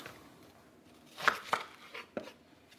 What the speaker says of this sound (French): En gros, je vais faire des gros lardons